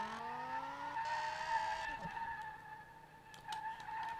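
Tires skid and squeal as a BMW M5 E28 with a V10 swap drifts in the racing game SLRR, a steady engine drone with sliding tire noise that rises and falls throughout.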